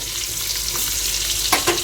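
Pointed gourd frying in a pan, a steady close sizzle with a few brief stirring scrapes near the end and no talking.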